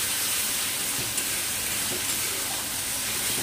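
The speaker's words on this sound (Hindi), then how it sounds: "दो मिनट के लिए इसे हम अच्छी तरह से भून लेंगे लो टू मीडियम फ्लेम में।" Onion and garlic paste frying in a pan over low to medium flame, a steady soft sizzle that carries on evenly without voices.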